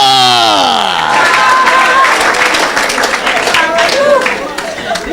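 A church congregation at an evangelistic revival service cheers and applauds loudly, with dense clapping, shouts and a leading voice calling out over the crowd.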